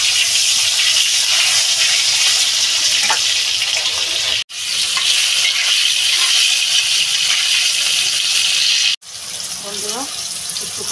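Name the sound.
cut potatoes frying in a pan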